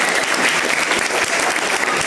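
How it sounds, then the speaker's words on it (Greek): An audience applauds at a pie-cutting celebration for a basketball club, dense, loud and continuous clapping from a large crowd, close and sustained throughout. "θα ήθελα ένα δυνατό χειροκρότημα για αυτά τα παιδιά"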